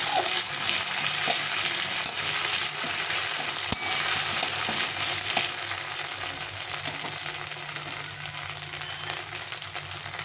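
Ginger, cumin and chilli paste frying with banana flower in a pan, giving a dense, continuous sizzle with occasional scraping stirs, close and fairly loud throughout. No speech.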